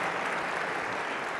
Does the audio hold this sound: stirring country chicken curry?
no